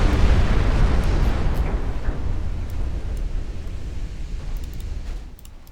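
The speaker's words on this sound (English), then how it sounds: "A turret blows off." A ship's turret blows off in a naval battle in Ultimate Admiral Dreadnoughts, a loud deep explosive boom that rumbles and slowly fades over several seconds, with no talk.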